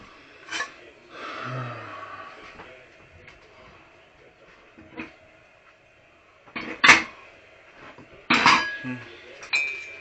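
Dishes, pots and cutlery being washed, with scattered clinks and clatters of metal and crockery, several sharp knocks close by against a steady background of running water.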